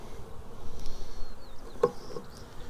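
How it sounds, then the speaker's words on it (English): Honeybees from a package buzz loudly and unevenly close up, a swirling insect hum with a sharp knock partway through. "Now you get your bees and you jar them a little bit so they fall to the bottom."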